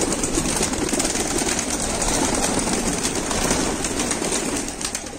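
Pigeons coo amid a dense, noisy wash of background sound, their soft calls blending into a constant hiss.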